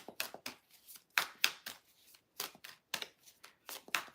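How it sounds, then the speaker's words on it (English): Tarot cards being shuffled by hand, a run of crisp riffling bursts and soft slaps in a steady uneven rhythm, close and fairly quiet with no talk. "Two more shuffles and then I'm going to split the deck."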